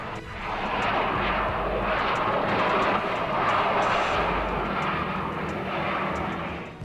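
A US Army Guard Beechcraft King Air C-90 with a nose landing gear that will not lock down drones steadily and loudly, its engine roar rising and falling gently throughout with no voices.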